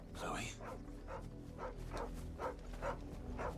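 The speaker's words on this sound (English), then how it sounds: "This is the same dog that stole Sid's letter." A dog in the Final Fantasy XVI video game barks and whimpers in a short run of yips, close and fairly clear, with game music and ambience beneath.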